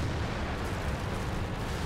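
Tank cannons fire in the online battle game World of Tanks, heard as a continuous dense roar of booming blasts and rumbling battle noise with no talk.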